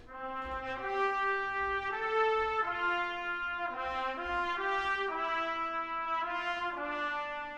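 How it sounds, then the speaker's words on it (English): Legato trumpet ensemble from the 8Dio New Century Ensemble Brass library plays a smooth, sustained melody, its notes gliding into one another at a steady, full level with no talking. "the patch I will most definitely be using the most is the legato patch for the trumpets"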